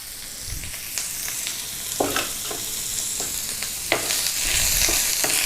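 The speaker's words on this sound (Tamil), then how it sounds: "இப்போ நல்லா தக்காளி நல்லா வதங்கணும்." Tomatoes sautéing after ginger and garlic in a pan for a green peas egg fry, a steady close sizzle broken by several sharp scraping stirs of the spatula, with no voices.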